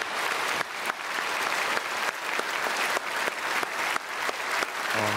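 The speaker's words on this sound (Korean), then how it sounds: "우리 박수로 축복하겠습니다" Church congregation applauding during a Sunday worship service, steady loud clapping from a large crowd filling the whole span, close and continuous.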